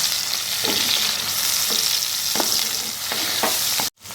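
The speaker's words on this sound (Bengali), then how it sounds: "আমি টমেটোটা পেঁয়াজের সাথে একটু ভেজে নেব" Tomatoes frying with onions in a pan for chicken keema give a steady, close sizzle, broken by regular stirring scrapes, before cutting off abruptly near the end; no one speaks.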